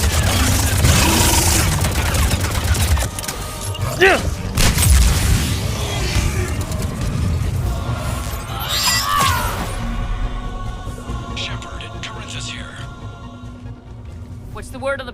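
Gunfire and booming shots in the Mass Effect 3 video game, with dense combat noise, blasts and a burst of crashing impacts early on, alongside music and brief talk.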